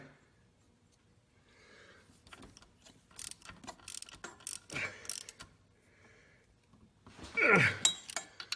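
A socket wrench ratchets in short bursts of clicks while tightening a bolt on a GM belt tensioner, close by with intermittent metallic clinks and a louder grinding turn near the end.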